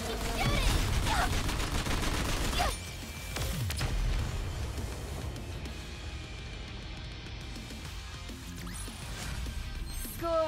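Rapid bursts of gunfire and blasts in the video game Goddess of Victory: NIKKE, dense and loud throughout, with brief game voice lines over the shooting.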